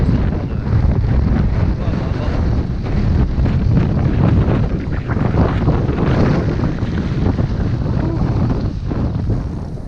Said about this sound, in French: il y a vraiment un vent de fou là